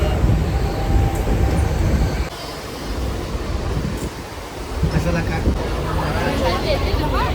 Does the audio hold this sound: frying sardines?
no